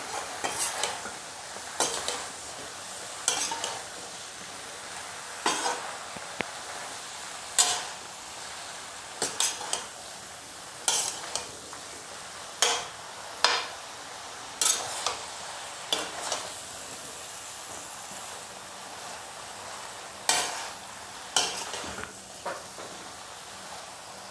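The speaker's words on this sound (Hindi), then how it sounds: "तो बैंगन को मसाले के साथ 2 मिनट के लिए अच्छे से हम भून लेंगे।" Eggplant pieces being stirred with spices in a pan for a vegetable curry, with repeated clinks of a spoon against the pan over a low sizzle, steady and close with no talk.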